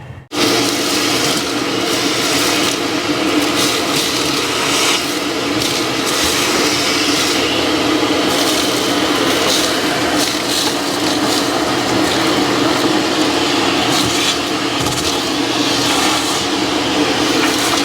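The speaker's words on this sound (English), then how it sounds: "They're just vacuuming." A vacuum cleaner starts abruptly and runs close and loud as a steady, unbroken roaring whoosh for nearly eighteen seconds, with no talking.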